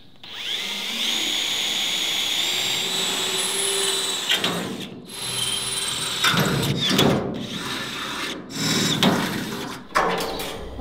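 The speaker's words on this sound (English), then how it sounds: "So we'll try a smaller drill first." A power drill fitted with a smaller bit bores into material while a honey extractor table is built, giving a loud, steady whine broken by repeated surges and bursts as the bit bites, close up and with no talking.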